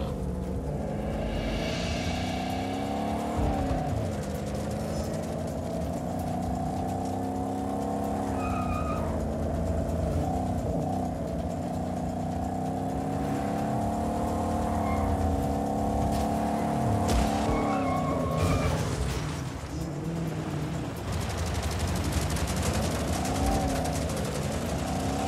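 A ground vehicle's engine drones steadily in Just Cause 4, its pitch rising and falling as it drives and accelerates, with a few short higher sounds breaking through the constant hum.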